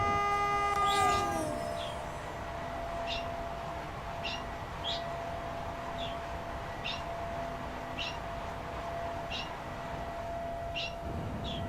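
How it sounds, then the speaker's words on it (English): A train rushes past in the opposite direction at about 100 km/h in the SimRail railway simulator, a steady rolling roar with a rhythmic clack of wheels over rail joints, preceded by a brief horn-like tone. "And a train coming at us."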